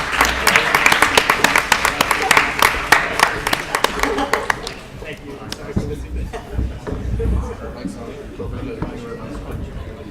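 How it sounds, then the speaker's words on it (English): Applause from the audience at a student economics debate, sustained dense clapping for about five seconds that then thins out into scattered claps and murmuring crowd noise. "a round of applause and congratulations to the Melbourne team"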